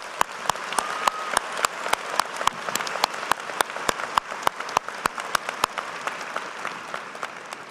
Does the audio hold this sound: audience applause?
yes